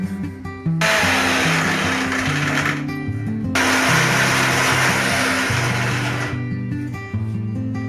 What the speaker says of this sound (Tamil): நெல்லிக்காயும் இஞ்சி மஞ்சள் பொடி உப்பு சேர்த்து மிக்ஸி ஜாரில் போட்டு அரைச்சாச்சு